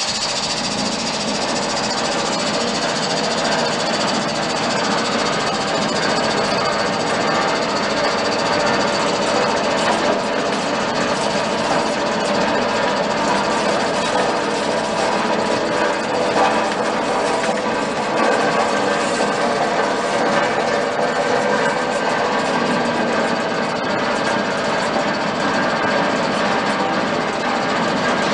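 An olive engraving machine for scoring olives runs steadily and loud throughout, giving a continuous mechanical whir and rattle with no voices.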